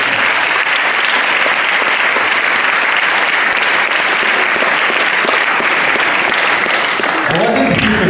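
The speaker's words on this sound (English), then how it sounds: "Please, a round of applause." Sustained, loud audience applause fills a hall after an inaugural university lecture, many hands clapping in a dense even wash, with a voice starting to speak near the end.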